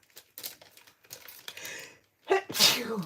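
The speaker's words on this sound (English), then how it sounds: "I'm about to sneeze." A single sharp sneeze bursts out near the end, loud and close, following quiet rustling and crinkling of paper craft supplies at a card-making table.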